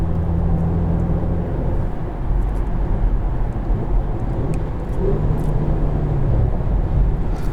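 Inside a 2021 Porsche Macan GTS, the V6 engine drones as a steady low rumble with shifting tones that could be PDK downshifts, under constant road and cabin noise.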